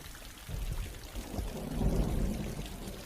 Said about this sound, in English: It's flowing through the underground pipe.